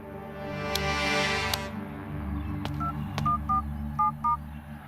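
A telephone is dialed to call a brother: after a hum and a brief burst of noise, a quick series of short, evenly spaced beeping keypad tones sounds close and clear.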